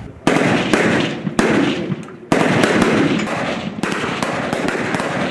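Soldiers fire weapons at a target during military training, sharp loud reports that burst in and sustain as rolling volleys with brief gaps, close and harsh throughout.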